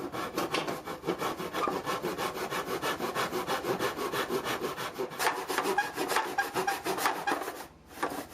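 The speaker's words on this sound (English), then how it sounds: "And then you simply start sawing, just like this." Rhythmic back-and-forth strokes of a hand saw cutting crown molding in a miter box, steady and close, with a brief pause near the end.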